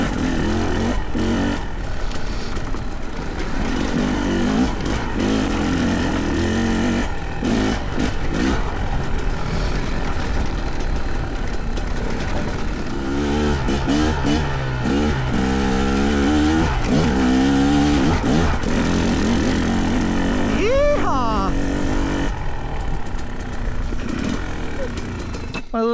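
Fantic XE300 dirt bike engine revving on a Colorado trail, a loud continuous two-stroke drone rising and falling through gears, close up, with occasional voice over the engine.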